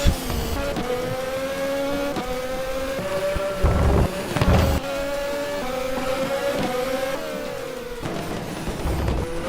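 Several race cars drive through a demanding section of a Formula-style circuit, their engines droning at steady high pitch with rising and falling revs, and a brief louder burst as cars pass close by.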